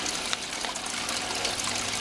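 Water trickles steadily from a regular aquarium filter inside the sump of a small aquaponics setup, a continuous close hiss of splashing flow with no pauses.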